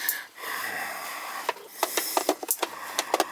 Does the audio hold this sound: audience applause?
no